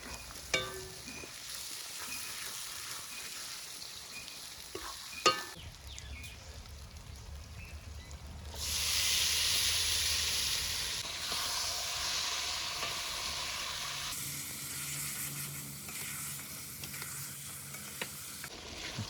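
Chicken with tomato, green chili and turmeric being sautéed in a clay pot over a village wood-fired chulha, a steady sizzle and hiss with stirring, rising louder midway, no talk.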